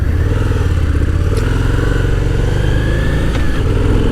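A Harley-Davidson V-Rod motorcycle pulls along at speed, its engine droning loud and steady with a rising pitch as it accelerates, wind and road noise underneath.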